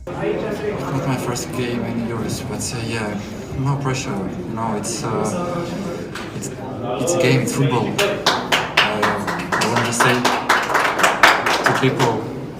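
Scattered clapping rises under steady talk, honouring a Romanian national team player, with sharp claps growing denser and louder toward the end.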